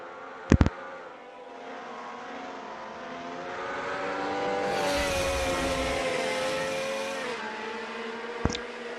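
Racing cars lap in a sim racing game in a Formula Alfa championship, a thin buzzing engine whine that swells and peaks midway before fading, with sharp clicks at the start and near the end; no one speaks.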